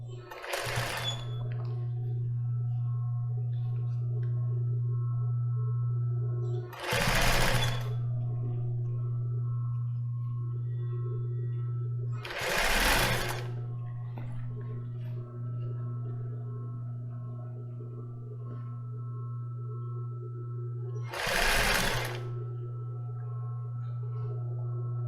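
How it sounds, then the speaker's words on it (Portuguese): A sewing machine stitches lace for a bra in steady whirring runs, a constant motor drone broken by a few short louder bursts of quick stitching, close by and with no voices. "E começou a costurar, dá um retrocessozinho e vem organizar aqui por baixo de novo e vai costurando."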